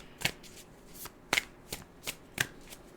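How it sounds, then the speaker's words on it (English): A deck of tarot cards being shuffled in several quick riffling bursts, close and crisp, separated by short pauses. "while we shuffle the cards"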